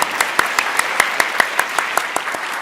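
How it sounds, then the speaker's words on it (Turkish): Studio audience at a quiz show applauding, heard as a steady run of evenly spaced, crisp claps over a soft bed of crowd noise, moderately close and alone without speech. "Berk Bey'i alkışlayalım Zehra Hanım"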